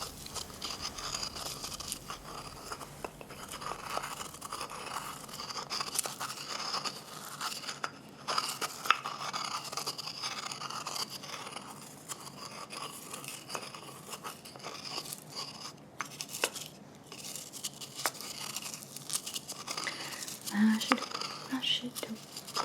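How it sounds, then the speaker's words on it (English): Herbs are mashed and ground by hand in a close-up ASMR setting, giving soft crunchy, scraping textures with intermittent crackles under quiet whispered talk throughout. "gonna mash it up, grind it up, and set it on that mash,"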